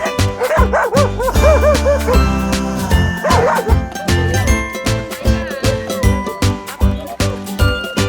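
Several dogs bark and yip at a newly opened dog run crowded with over thirty dogs, their barks bunched in repeated bursts over a busy background with steady music.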